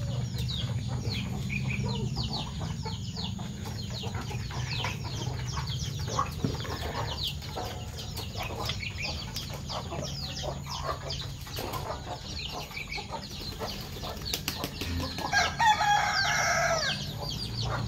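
Chickens, including Cornish bantams, cluck continuously in a coop while a rooster crows repeatedly, the sounds close and layered over a steady background murmur.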